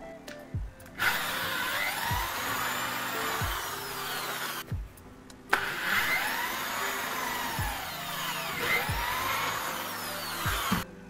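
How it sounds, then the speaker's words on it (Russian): A power drill bores holes through a handmade window blind so cords can pass through, whining in two long sustained runs with a short stop between them, loud and close, with no talk. "Сейчас под веревки сверлим отверстие"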